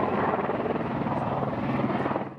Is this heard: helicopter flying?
yes